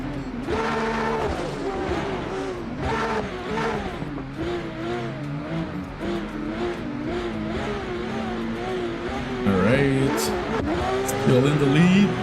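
Toyota Supra and Toyota Mark II race cars drifting in a racing video game, engines droning and revving continuously with pitch swings as they slide and chase, loud and steady under ongoing commentary.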